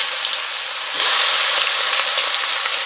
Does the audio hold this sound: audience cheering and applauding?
no